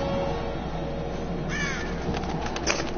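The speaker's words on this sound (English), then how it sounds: "fucking birds." Crows caw in the Tomb Raider video game, several harsh calls arriving in a quick cluster midway, moderately near, over a steady ambient wind-like bed with no talking.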